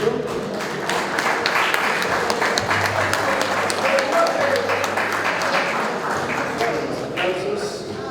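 Audience applause at a graduation ceremony for motorcycle and vehicle mechanics students, a steady dense clapping lasting several seconds with some voices and a low hum beneath.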